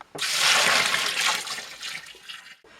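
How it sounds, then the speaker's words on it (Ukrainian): Sugar syrup pours into a fermentation vessel for homemade apple brandy, a close, continuous splashing gush of liquid that tapers and trickles off near the end. "І виливаємо утворений сироп у бродильну ємність."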